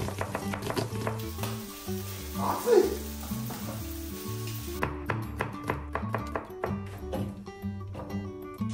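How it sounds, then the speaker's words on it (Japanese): Onion and garlic fry in a pan with a soft sizzle, mixed with light taps and stirring, while rhythmic background music plays throughout. "玉ねぎと ニンニクも調理していきます"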